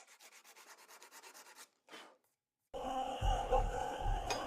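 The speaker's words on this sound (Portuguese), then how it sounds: "como estou usando lixa, não dá para criar geometria" Hand sanding a Damascus steel blade with sandpaper, a run of quick rhythmic rubbing strokes followed by a short pass, a pause, then a louder, rougher noise with a low rumble.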